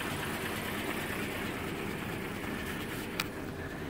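A 1935 Ford rumble-seat convertible with a rebuilt engine runs steadily at idle, a constant low mechanical drone with no breaks, heard alone with a brief click near the end.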